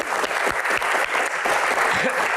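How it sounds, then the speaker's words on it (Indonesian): An audience at a televised Q&A show breaks into loud, steady applause, a close, dense wash of clapping that fills the whole moment. "tepuk tangan buat Gian"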